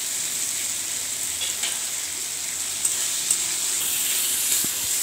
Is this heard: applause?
no